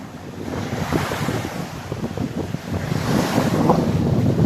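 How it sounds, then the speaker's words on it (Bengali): Choppy river waves heard from a boat, a continuous rushing wash of water and surf mixed with strong wind buffeting, fairly loud and steady, with no talking. "প্রচুর পরিমাণে নদীতে ঢেউ আছে"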